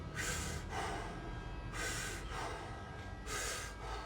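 Heavy breathing during a squat breathwork exercise, with forceful, audible inhales and exhales alternating in a steady rhythm about every 1.5 seconds, loud and close to the microphone with no talking.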